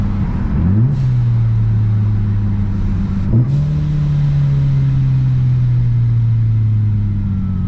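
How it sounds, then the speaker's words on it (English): A loud, close turbocharged Acura TL-S engine drones steadily, with two quick rev blips as it downshifts, the pitch jumping then settling into a lower, sustained hum. "Let's listen to some downshifts here."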